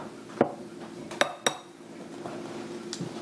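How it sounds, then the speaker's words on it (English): Eggs being cracked for a ham and vegetarian quiche: a few sharp clicks and clinks, probably shell against a bowl, spaced out over quiet kitchen background with no talk. "I'm going to crack 3 eggs."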